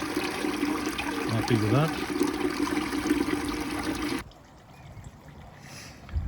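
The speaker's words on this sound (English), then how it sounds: "Oh, it's bubbling away a lot better now." Air stones fed by a pump bubble steadily in a garden pond skimmer, a continuous close watery gurgle under a brief spoken remark that cuts off abruptly into near quiet.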